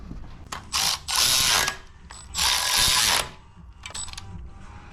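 A socket wrench fitted with a 1/2 inch deep well socket ratchets during engine removal work on a 1975 Charger street car, giving three loud close bursts of rapid clicking followed by lighter intermittent clicks.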